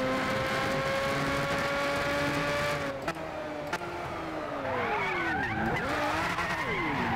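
Tires of a Zonda R race car in a racing video game squeal in long wavering tones as the car slides, engine droning underneath, with a couple of sharp clicks midway and no talking.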